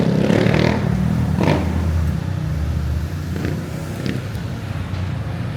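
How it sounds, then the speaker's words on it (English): A tiny but loud motorcycle with a noisy exhaust roars along a Brazilian street, its engine rumble strongest at the start and then easing into a steady drone as it passes and fades, with occasional clatter and no talking. "I'm not sure if you saw that motorcycle, but it was tiny, but it roared."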